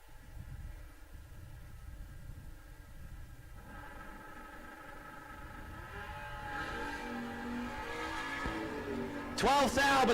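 Fox body Ford Mustang drag race cars launching at a No Box Open event: engines rumble faintly at first, then swell louder toward the end, under an announcer talking.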